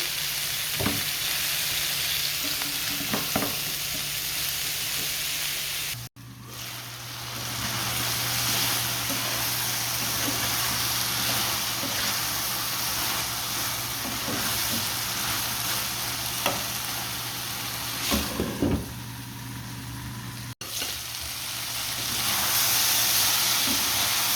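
Bitter gourd with onion, green chili and salt fries in a pan, a continuous loud sizzle with steady hiss and occasional stirring scrapes, no talking.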